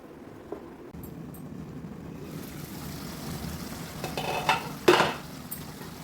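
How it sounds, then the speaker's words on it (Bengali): Duck meat cooked in a pot is stirred, low bubbling simmer building as a lid lifts, followed by a few clanks and scraping strokes of a spoon against the pot near the end. "তাই আমি বারবার ঢাকনাটা খুলে দেব আর নেড়ে চেড়ে মাংসটা সেদ্ধ হওয়া পর্যন্ত রান্না করে নেব"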